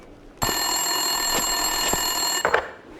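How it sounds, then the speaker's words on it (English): Desk telephone ringing in the video game Max Payne 2, a steady loud electronic ring holding for about two seconds before breaking off. "Winterson's phone was ringing."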